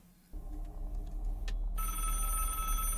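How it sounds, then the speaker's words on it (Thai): An old-style bell telephone rings loudly and steadily in the horror game Five Nights At Hololive, clanging alone with no talk over it. "เสียงโทรศัพท์ คล้ายๆ แบบไฟไนเอฟดีเลยนะ"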